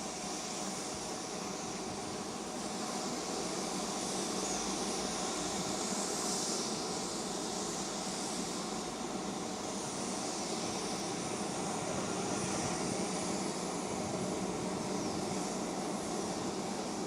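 A steady, loud roar of a Rafale fighter jet engine in flight fills the whole stretch, broadband and continuous with slight swells, no voices.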